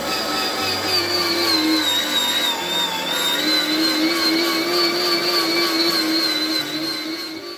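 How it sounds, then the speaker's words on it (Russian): An electric meat grinder minces pork fat with garlic in one pass, its motor giving a loud, steady whine with slight shifts in pitch under the load. "Прокручиваем сало с чесноком в мясорубке на один раз."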